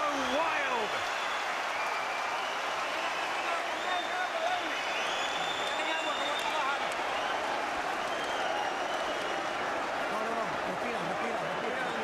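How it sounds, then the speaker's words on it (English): Scottish crowd at a boxing match roaring and applauding after a round ends, a loud continuous wall of cheering and clapping lasting throughout, with a commentator's voice audible over the din. "the Scottish crowd go wild"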